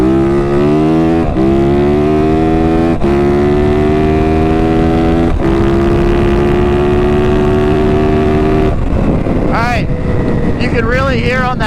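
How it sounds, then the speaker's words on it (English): A 450 dirt bike on a competition ECU revs loud and close, climbing through the gears with clear shifts, the last upshift sounding bogged down before the note breaks into wind and passing noise. "You can really hear on that 4th to 5th gear change like how much more bogged down it really was"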